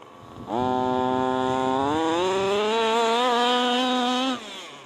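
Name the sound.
HPI Baja RC car gas engine running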